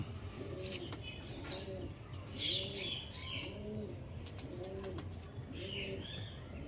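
Andhra racing pigeons kept for sale to tournament flyers, repeated rhythmic cooing about once a second with occasional chirps and wing flutters, fairly close but quiet, no one talking.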